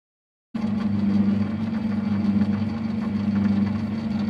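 A Boxford imperial metal lathe runs steadily, turning a part before metric thread cutting, with a constant low motor hum that starts abruptly and stays even and close.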